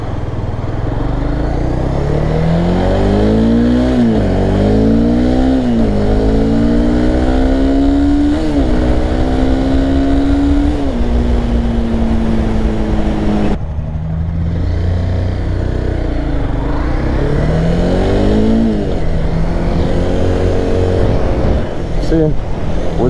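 A Honda CBR300 motorcycle engine revs repeatedly during wheelie practice, climbing in pitch through several rising pulls, dropping back, and rising again, loud and close as if from the rider's position, with wind rush throughout.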